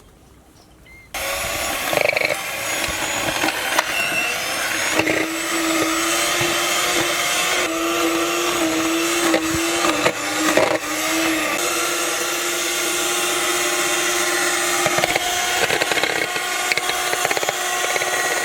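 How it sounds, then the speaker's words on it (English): Electric hand mixer whirring loudly and steadily as it blends butter and powdered sugar for an eggless cake, starting abruptly after a quiet moment, with the motor pitch shifting slightly as it works. "Blend using this hand mixer."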